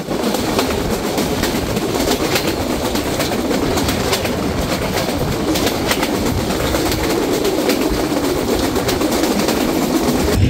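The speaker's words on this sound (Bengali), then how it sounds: "ট্রেনটি এই মুহূর্তে থ্রুপাস করে যাচ্ছে আব্দুলপুর জংশন রেলওয়ে স্টেশন" The Kapotaksha Express makes a steady, loud, unbroken roar of rumble and rattle as it runs through Abdulpur Junction station without stopping, heard from on board.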